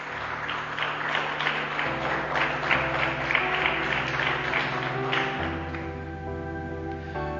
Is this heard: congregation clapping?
yes